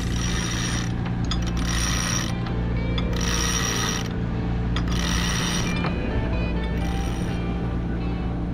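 Winch and pulleys clicking and ratcheting as a large genoa sail is unfurled aboard a sailboat, with steady rhythmic mechanical clatter over a constant low rumble, close and fairly loud.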